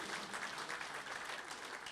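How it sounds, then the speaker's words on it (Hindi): Dense, sustained applause from a mushaira poetry gathering audience, many hands clapping together at an even level without pause. "एक बार ज़ोरदार तालियाँ उनके लिए।"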